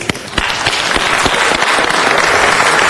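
A Los Angeles City Council chamber bursts into loud, continuous applause for the departing city attorney, Rocky Delgadillo, with many hands clapping densely and steadily throughout.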